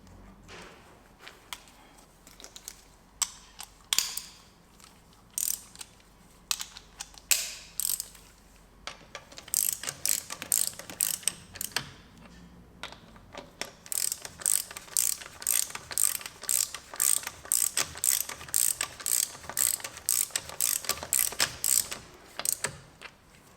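A ratchet screws wheel bolts into a campervan, clicking in quick bursts with pauses between them, then turning into a long, fast run of sharp ratcheting clicks, close and clear, with no speech.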